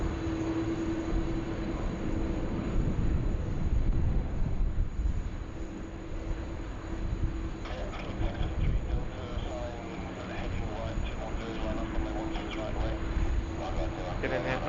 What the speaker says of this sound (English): The nice little blue tail, Link Airways Saab.